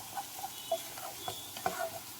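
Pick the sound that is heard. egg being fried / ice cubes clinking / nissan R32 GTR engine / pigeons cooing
egg being fried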